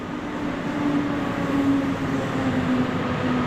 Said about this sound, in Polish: Zrobił małą zadymkę pociąg Słowiniec z Łodzi Fabrycznej do Gdyni Głównej.